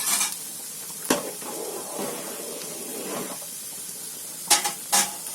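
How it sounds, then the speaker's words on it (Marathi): A spoon stirs rice and masala in a cooking pot over a soft sizzle. A few sharp metallic scrapes and clinks stand out, with a cluster near the end, and no one speaks. "आता एकदम आहे ना जरा चमचा फिरवायचा त्याच्यामध्ये"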